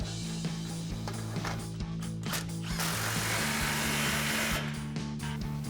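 Power tool tightening an exhaust clamp on a GMC Sierra 1500: close, rough whirring burst that builds to a sustained rasp after a few clicks, over a low steady hum, without talk.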